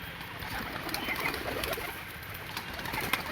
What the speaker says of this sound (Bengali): সব কটা পায়রা একে একে বেরিয়ে যাচ্ছে